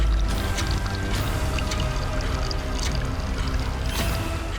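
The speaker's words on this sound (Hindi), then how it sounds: "उस कुंड से कई झरने निकलते हैं जो सीधे इस नदी में गिरते हैं।" Several small waterfalls stream over rocks from a pool straight into a river in Chhattisgarh, giving a steady, broad rush of flowing water with faint splashing throughout, and no clear voices.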